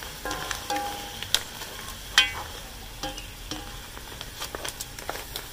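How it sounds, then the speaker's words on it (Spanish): Crabs sautéed with sofrito in a pan give a soft, low sizzle with scattered clicks and scrapes of stirring, close but quiet. "Ahorita estoy pegando una media sofreída aquí a las jaibas con el sofrito para que agarre sabor a pescado"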